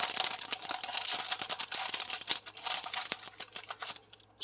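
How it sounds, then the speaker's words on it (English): Rose stamp set from a dollar store being unwrapped, with dense crinkling and tearing of plastic packaging, close and steady for several seconds before dropping away at the end. "So we're going to just open this up."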